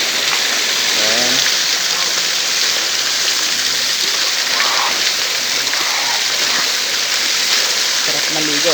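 Steady rushing water pouring from a pool overflow at a free-flowing spring resort in Pangasinan, a loud, constant hiss of cold, clear water with a voice briefly heard over it.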